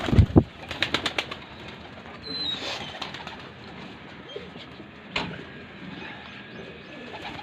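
Racing pigeons on a rooftop in Amritsar coo softly amid a burst of flapping wings and a few sharp clicks at the start, with faint chirps in the background.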